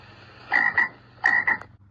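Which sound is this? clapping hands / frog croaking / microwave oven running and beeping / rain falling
frog croaking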